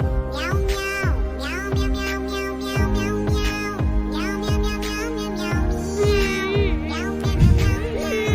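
Many cats meow in an AI-generated video, a steady stream of overlapping mews, one after another at a brisk pace, fairly loud and close, with a few longer drawn-out cries among them.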